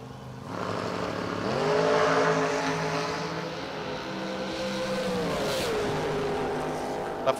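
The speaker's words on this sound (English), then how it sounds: "The Mosier Machine 67 Chevy 2. Its own rear engine dragster" At a drag strip, a '67 Chevy II door car and a rear-engine dragster make a run, engines roaring and pitching up through the gears as they pass, loud and sustained, with faint voices underneath.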